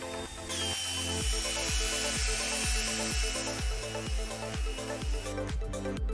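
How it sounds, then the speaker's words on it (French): A drill drives a spinning bicycle wheel with a steady mechanical whir, overlaid by a regular, rapid series of rhythmic thumps that repeat about twice per second, close and continuous. "La perceuse se met à faire tourner la roue comme un petit moteur."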